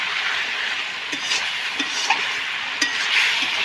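Potatoes and onions with spices sizzle steadily as they are sautéed in a pan, with a constant frying hiss broken by a few soft scrapes and clinks of a stirring utensil.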